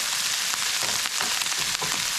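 Salmon and Brussels sprouts fry together in a pan, a soft, even sizzle with gentle crackling pulses, close but fairly quiet and with no talk over it.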